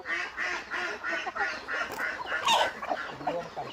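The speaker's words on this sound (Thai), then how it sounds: "ทั้งเป็ดทั้งไก่กินพร้อมกัน" Ducks and chickens feeding together from the same feed, giving a busy, continuous chatter of quacks and fowl calls at close range with no talking.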